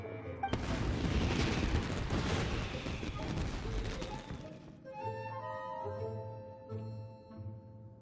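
Fireworks burst in the video game Genshin Impact with a sudden loud crackling barrage that rumbles for a few seconds, then gives way to soft tonal music.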